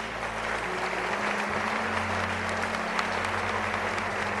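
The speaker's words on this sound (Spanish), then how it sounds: "Un aplauso al Señor por la vida también de nuestras autoridades." Congregation applauding at an evangelical Te Deum in Chile, a steady wash of clapping throughout with a low sustained hum beneath it.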